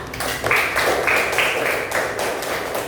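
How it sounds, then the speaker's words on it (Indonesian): Students in a classroom give group 1 a round of applause after their presentation, a steady clatter of many hands clapping that holds for about three seconds. "Kita beri tepuk tangan untuk kelompok 1 ya"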